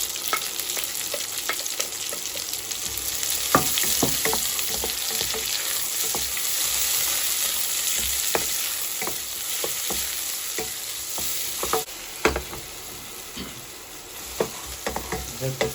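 Onions and garlic frying in a pan for a mushroom and spinach feta pancake: a steady bright sizzle with frequent clicks and scrapes of stirring, a few louder knocks later on; no speech.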